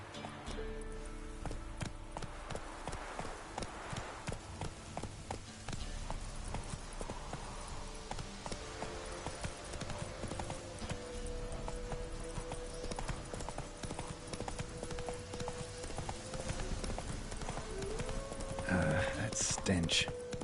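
In the Witcher 3 video game, a horse gallops in a fast, continuous clip-clop of hooves close by, running steadily throughout with faint background sounds.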